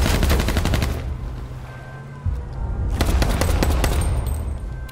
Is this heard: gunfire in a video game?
yes